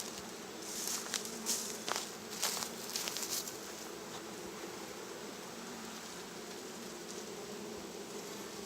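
Honeybees buzz around an open hive during an inspection, a soft steady hum with a few brief louder passes near the start, no talk.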